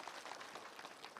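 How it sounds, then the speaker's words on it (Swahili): Applause from an audience at an International Nurses Week celebration, a short burst of many hands clapping at a steady, faint distance, with no talk. "Tumukunia makofi."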